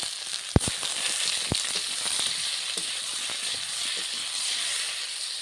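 Garlic paste sizzling in a pan with onion, taro and potato: a steady, bright frying hiss, close and even, broken early on by a few sharp clicks of a spoon or spatula against the pan.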